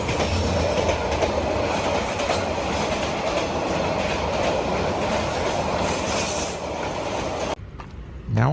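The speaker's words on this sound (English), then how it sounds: "I actually just stood here and watched a train go by." A train rolls past nearby in a Vietnamese city neighborhood, loud and continuous with rumbling wheels and a high squeal, ending abruptly as it clears.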